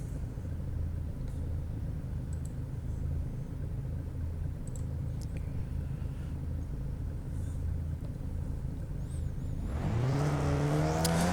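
Race car engines idle and rumble on the starting grid at Oulton Park in iRacing's Skip Barber series, a steady low drone that rises into a loud revving surge near the end.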